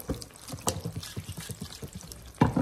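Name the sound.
water poured into blender jug with chili adobo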